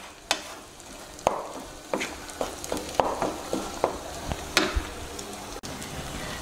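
An egg fries in a pan with vegetables for egg noodles, a soft steady sizzle broken by sharp spatula scrapes and taps at irregular intervals.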